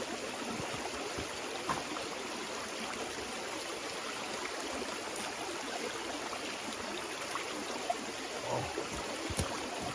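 A small wilderness creek flows with a soft, steady wash of running water, faint and continuous, with a few light splashes and no voices.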